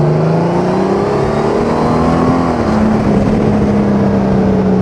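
A 2021 Honda Gold Wing DCT touring motorcycle accelerates on the road, its engine note loud and close with a rising then level whine under continuous wind rush, no talk.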